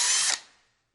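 A power screwdriver whirs briefly as it backs a screw out of a Pondmaster model 700 pond pump, a single short burst of close, bright mechanical whine that cuts off and fades to quiet.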